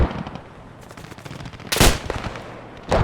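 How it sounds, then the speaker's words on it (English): Automatic gunfire passing overhead in the tactical shooter game Squad, sustained rattling bursts with a loud close crack near the middle and another at the end. "And someone's firing over my head."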